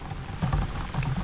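Rain falls steadily on a mountain during a storm, giving a dense, even hiss with low rumbling underneath, close and loud without clear voices.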